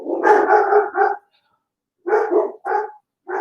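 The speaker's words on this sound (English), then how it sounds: "That does sound like they're barking at somebody outside." Large dogs bark loudly and close by indoors in a run of sharp barks, a brief pause, then more barking, with no talk over it.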